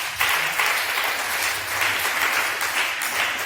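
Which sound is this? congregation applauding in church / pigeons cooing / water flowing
congregation applauding in church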